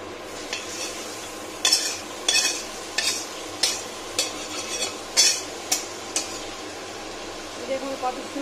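Potatoes fry in oil in a kadai for a Bengali cabbage dish, with a steady sizzle under a run of sharp spatula scrapes and clinks against the metal, spaced irregularly and close by.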